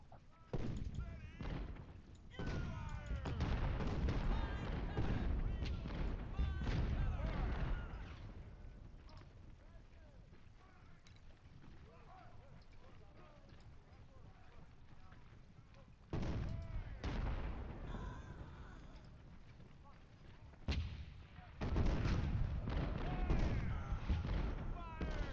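Cannon fire from Napoleon artillery in the Civil War strategy game Ultimate General, a stretch of rumbling booms and distant volleys that rises, fades into quieter ambience, then swells again, with someone talking over parts of it.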